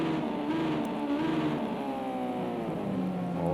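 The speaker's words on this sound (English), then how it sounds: "as he's bringing them down the gears hard, Jetto. The sound of that" Ginetta GT5 race car in a racing game, engine note dropping through hard downshifts, a loud steady roar with shifting harmonic bands, close and continuous with no talk.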